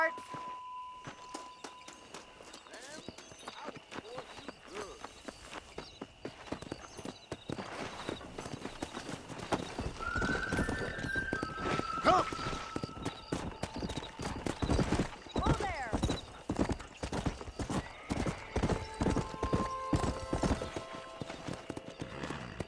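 Horse hooves clip-clop steadily in Red Dead Redemption as riders set off, a fast repeated rhythm with occasional whinnies, running under people talking throughout.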